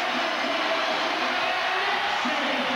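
A packed basketball arena crowd roars steadily as the New York Knicks take the lead against the Charlotte Hornets in a 1996 NBA game, with a dense, continuous wash of cheering and no clear breaks.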